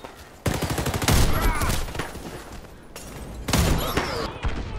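Shotgun fire in a video game, heard as loud, dense bursts of blasts in two clustered volleys with sustained rumble between them.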